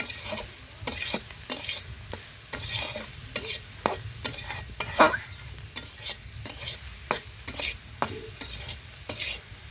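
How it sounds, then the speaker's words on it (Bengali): Food fries in a pan in a village home kitchen while a spatula scrapes and stirs it repeatedly, sharp clinks and scrapes over a continuous sizzle, close and without talk. "প্রায় হয়ে গেছে আর একটু ভেজে নেব ভালো হয়ে গেছে এখন নামিয়ে ফেলবো"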